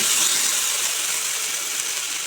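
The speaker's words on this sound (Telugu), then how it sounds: "ఇదంతా పచ్చివాసన పోయేలా ఫ్రై చేసుకోవాలి" Ginger garlic paste frying in a pan for chicken pulao, a steady bright sizzling hiss that stays loud and close without a break, no voices.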